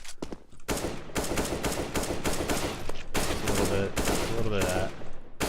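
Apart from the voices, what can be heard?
gunfire in aim warm-up, flicking headshots, video game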